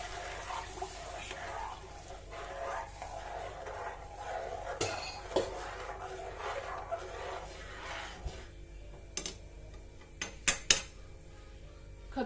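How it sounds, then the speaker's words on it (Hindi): Kadhi poured into a pan over a roasted base and stirred with utensils: scattered metal clinks and scrapes against the pan, with a few sharper knocks near the end, over a soft steady background hum. "ये भुन गया है, मैं कढ़ी डाल रही हूँ।"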